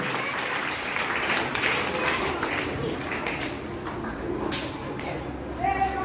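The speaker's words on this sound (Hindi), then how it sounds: "जोरदार ताली हो जाए हमारे भारत माता और गांधी के बापू के लिए।" A crowd at a Hindi Diwas event in India claps in sustained, dense applause that rises slightly and continues throughout, with some voices mixed in.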